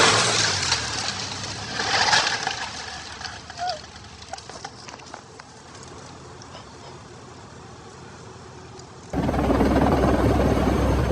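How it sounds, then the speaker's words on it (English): A helicopter hovers while lifting a heavy, truck-sized industrial air conditioner unit on a cable at a construction site in Oakland, its rotor noise a broad loud rumble that dips midway and then surges back louder near the end. "As the helicopter lifted the truck-sized load, the cable snapped without warning."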